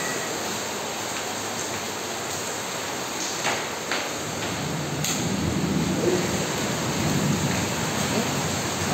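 Heavy rain pours steadily during a Kalbaishakhi storm in Bagerhat, a dense continuous wash with a few faint sharp cracks midway and no voices.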